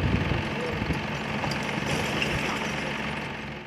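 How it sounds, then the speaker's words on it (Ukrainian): A tractor compacts waste at a city landfill, its engine running in a steady broadband drone that holds throughout at moderate loudness, with faint voices and background noise mixed underneath. "вон там трактор такий, який ущільнює її"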